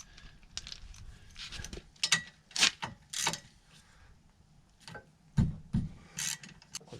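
A 7mm Allen key loosens a brake caliper bolt on a Mini Cooper S R53 during a front brake upgrade. Faint, scattered metallic clicks and ratchet-like ticks sound at close range in a quiet space.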